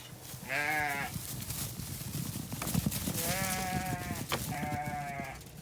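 Three separate sheep bleats ring out, fairly close, spaced a second or two apart, over a soft rustling background.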